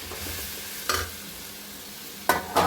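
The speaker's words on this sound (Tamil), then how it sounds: "வெங்காயம் தக்காளியெலாம் வதங்கி இப்போ காயெல்லாம் கொட்டும்" Vegetables tipped into a pot of sautéed onions and tomatoes for sambar rice: a soft background sizzle broken by two or three sharp clattering bursts as the pieces drop in, near and alone.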